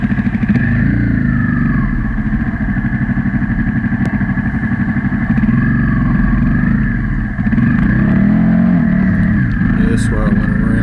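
Several Honda CRF250L dirt bikes ride through muddy clay, their engines buzzing loudly and continuously up close, with revs rising and falling throughout and a brief dip near the end.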